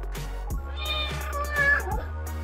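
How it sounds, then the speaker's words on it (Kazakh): A cartoon cat in a Kazakh alphabet animation gives a short, clear meow with a rising and falling pitch, close and alone over a soft background. "Мысық."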